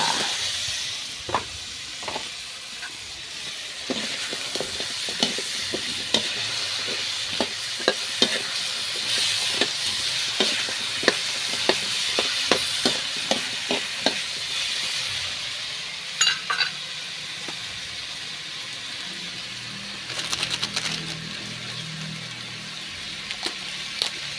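String beans and squash stir-frying in a hot pan, a continuous sizzle and hiss broken by frequent sharp scrapes and clinks of a utensil stirring, close up.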